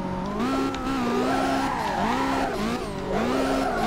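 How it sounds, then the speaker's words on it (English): Loud, continuous tire squeal from a car drifting in BeamNG.Drive, wavering pitch rising and falling as the slide changes, over a steady engine drone with no talking. "it's pretty good for drifting"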